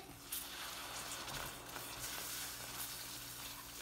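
Milk is poured into a hot pan of browned chicken and vegetables, setting off a steady, moderately loud sizzle and crackle that holds evenly throughout with no voices.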